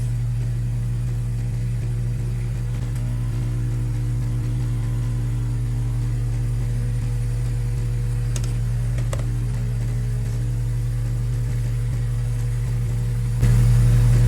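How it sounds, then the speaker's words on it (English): A concrete-vibrating machine shaking bubbles out of a concrete vessel gives a steady, loud mechanical hum with a low droning buzz throughout, rising slightly in level near the end. "Let's turn on our machine and get the bubbles out."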